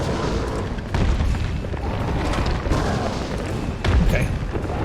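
Video game explosions boom repeatedly amid heavy gunfire and battle noise, several loud deep blasts landing at irregular intervals over a dense, chaotic backdrop.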